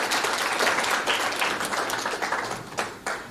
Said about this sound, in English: let us give them a round of applause as they leave the podium